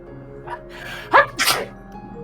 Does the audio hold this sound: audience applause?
no